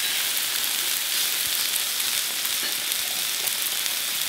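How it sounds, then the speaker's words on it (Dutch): Vegetarian meat frying in a pan, a steady dense sizzle with crackle that holds at an even level throughout, close by and with no talking over it. "het is aan het bakken"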